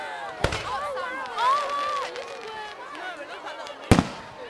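Bonfire night fireworks at Kendal Castle, with sharp bangs early and late among whistling rising shells and crowd noise in the open air.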